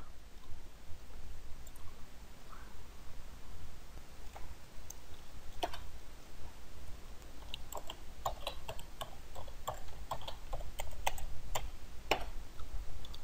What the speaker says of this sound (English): I guess I typed my password in wrong.